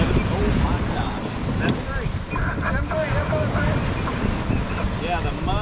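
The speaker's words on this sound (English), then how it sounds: "I'm taking on water with these big waves coming in" Big waves slap and wash against a small boat under strong, gusty wind buffeting the microphone, a constant loud churn with no clear pauses.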